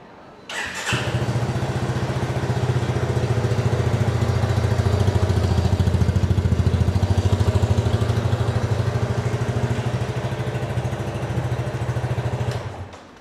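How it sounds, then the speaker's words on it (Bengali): A Yamaha FZ 25 250cc motorcycle engine starts after a brief pause and settles into a steady, close, loud idle with a rumbling pulse that holds for about twelve seconds before cutting off. "আসুন আপনাদেরকে বাইকের সাউন্ডটা শোনাই।"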